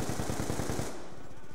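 Rapid automatic gunfire from a Call of Duty match, a fast burst of shots for just under a second, then a fainter trailing rattle, loud and without talk.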